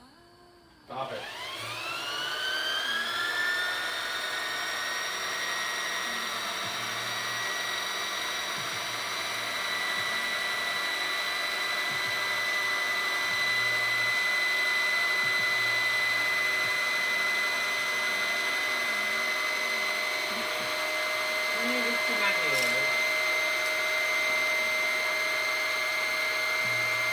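A sewing machine winding a bobbin: a motor whirs up quickly and holds a steady high-pitched whine for the whole stretch, with slight wavering in pitch and a faint voice or two beneath it.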